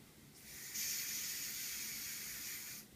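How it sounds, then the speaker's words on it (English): Hairspray sprayed from an aerosol can for fake rust weathering: one steady, close, hissing spray lasting about two seconds, with no one talking. "I'm just getting some more spray here. I'm running out of hairspray."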